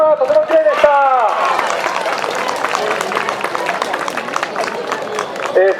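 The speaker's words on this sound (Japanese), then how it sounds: "拍手ありがとうございました。" Crowd applause and scattered clapping at an outdoor shrine festival after a fireworks light-waterfall display, a steady mass of claps with a voice speaking over the start and end.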